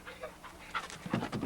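A pet dog named Joshua pants close by in short, rhythmic breaths during a brief quiet moment at home.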